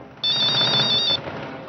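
A telephone rings once in a single sustained burst of bright, trilling electronic tone lasting about a second, fairly loud over a low background hum, then stops.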